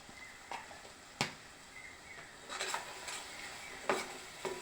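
Passion fruit pickle masala with asafoetida being stirred in an oil pan, giving a faint low sizzle broken by soft scraping strokes and a few sharper spoon clinks, close by and without talk.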